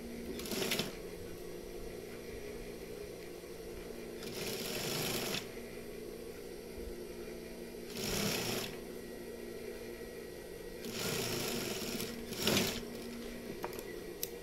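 A sewing machine stitching a seam on a koko shirt runs in several short bursts of rapid whirring, close by, separated by quiet pauses while the fabric is repositioned.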